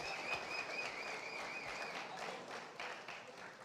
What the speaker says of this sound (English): everybody give the applause to Artyom